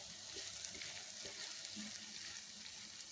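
Okra pieces cooking in a pan with turmeric and salt, a soft, steady sizzle with light stirring clinks, faint and continuous.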